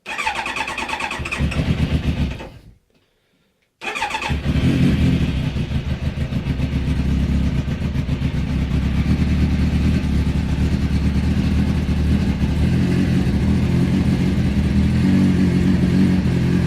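A 2001 Kawasaki Ninja ZX-9R motorcycle engine cranks briefly, goes silent for a moment, then fires up on full choke. It settles into a loud, steady high idle close by, with no talking.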